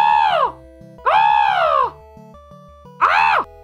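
A person imitates a crow's call with a voice, giving three loud, strained, harsh caws, each about half to one second long, over a quiet repeating background music loop.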